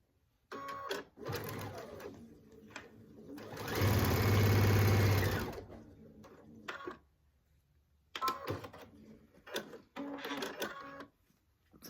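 A sewing machine stitches binding strips in short bursts of fast mechanical whirring, with one longer, louder run in the middle and brief stop-start stitches near the end, close and clear.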